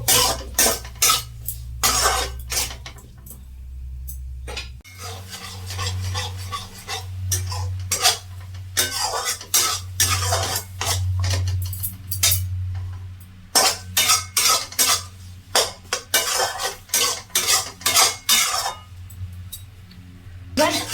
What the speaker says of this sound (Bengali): মিডিয়াম ফ্লেমে আমি গুড়টাকে এক থেকে দু মিনিট আমি এটাকে নাড়াবো খুন্তি দিয়ে